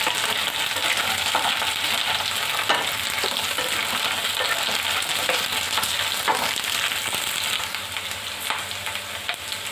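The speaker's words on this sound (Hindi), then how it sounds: "भिंडी को लाइट ब्राउन होने तक भून लेंगे।" Okra fries in hot oil until light brown, giving a steady, dense sizzle and crackle close up, with faint occasional stirring and no voices.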